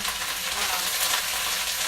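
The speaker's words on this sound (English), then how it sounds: "So I'm just frying this in avocado oil and toasted sesame oil." Cabbage sizzles and crackles steadily in hot avocado and toasted sesame oil in a pan, a dense continuous hiss close by with no voices.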